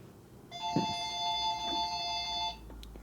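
A telephone rings in a workshop, one sustained electronic tone lasting about two seconds, fairly clear over low background noise, with a couple of faint clunks.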